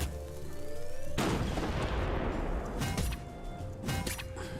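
A cannon in the video game Worms Crazy Golf fires a golf ball with a loud, booming launch blast, followed by crackling, rumbling debris and scattered impact noises that fade over several seconds, with no voices.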